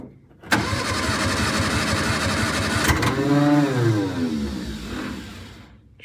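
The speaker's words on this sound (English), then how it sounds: "we can try a cold start on it" A 1961 Austin Healey Sprite, choke pulled, cranks over on its starter in a cold garage below 40°F, a steady rhythmic churning for a few seconds, then a brief rising whir before fading, loud and close.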